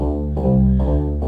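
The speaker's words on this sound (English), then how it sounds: "we're going to just put a simple bass line in" A simple bass line programmed in LMMS music software plays a few sustained synth bass notes in a short repeating pattern, full and close, with no voices.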